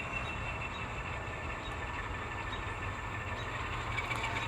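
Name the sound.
N scale model train locomotive running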